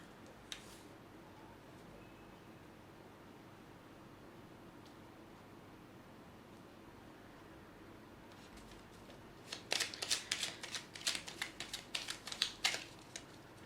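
Tarot cards being shuffled in a quiet room: near-silence for several seconds, then a quick run of crisp, riffling card flicks and taps near the end, with no talking.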